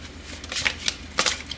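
Tarot cards are shuffled for a love reading, a few quick riffling bursts of crisp paper flutter and soft taps, close up and fairly quiet.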